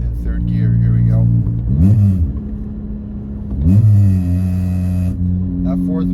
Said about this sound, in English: I'm in 5th gear, going about 47, 48 miles an hour, and I'll rev match down to 4th and 3rd gear.